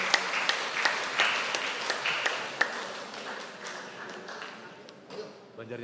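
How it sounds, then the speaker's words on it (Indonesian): A choir festival audience in a church hall claps for the next choir, lively scattered applause with sharp individual claps, tapering off toward the end under a faint background voice. "Tepuk tangan Amang Inang."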